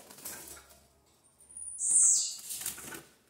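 Startled sabiá thrush chicks flap their wings in a brief burst of fluttering, with soft rustling before and after.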